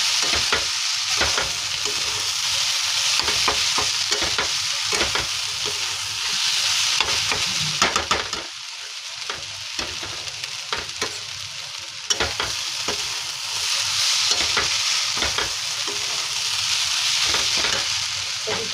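Spice masala fries in a pan with a constant, fairly loud sizzle while a spoon scrapes and stirs it in repeated clacking strokes, with no voices.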